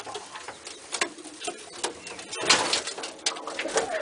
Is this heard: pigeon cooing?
yes